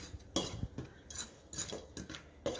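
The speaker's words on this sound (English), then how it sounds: "You're going to mix all of your dry ingredients together." A utensil stirring and scraping dry biscuit ingredients together in a bowl, with soft irregular clinks and scrapes, close and quiet.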